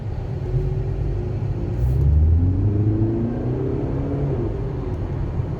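Audi A3 Sportback 2020 TDI with 150 hp accelerating, heard from inside as a loud, steady diesel rumble that swells while rising engine tones climb through the gears, with no talking.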